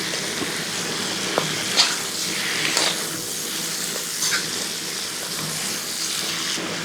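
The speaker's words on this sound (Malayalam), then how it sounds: "നമുക്കൊരല്പം വെള്ളം ഒഴിച്ച് കൊടുക്കാം" Water is poured into a pan of frying Kanthari chicken curry, a soft hiss and trickle over faint sizzling, with a few light clinks, close and fairly quiet.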